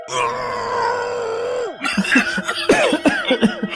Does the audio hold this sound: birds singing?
no